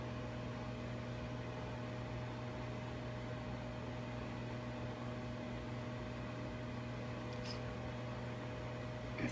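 A microwave oven hums steadily as it heats peanut butter, a constant low electrical drone with fan noise that runs evenly throughout, with no voices.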